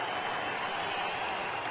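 Crowd at a Minnesota Twins baseball game, a broad steady wash of cheering and murmur from a large audience heard at a distance, with no single voice standing out.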